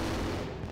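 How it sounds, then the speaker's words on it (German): An explosion in the video game My Summer Car, heard as a loud, dense, continuous burst of rumbling blast noise that fills the whole short moment with no talk over it. "Jetzt explodiert's."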